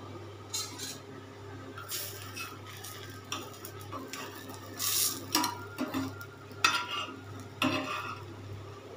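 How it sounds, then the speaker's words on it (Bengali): Bread slices frying in a pan for sandwiches, with soft sizzling and repeated clinks and scrapes of a spatula against the pan, close by over a low background hum, no voices. "এইভাবে আমি দুটো ব্রেডকে ভালো করে বসিয়ে লাল করে ফ্রাই করে নেব"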